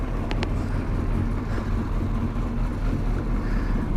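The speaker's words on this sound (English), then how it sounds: "Let my bike warm up a little bit." A 2008 Suzuki Hayabusa motorcycle with a Yoshimura exhaust idles while warming up, a steady low rumble that holds evenly throughout, with some wind noise on the microphone.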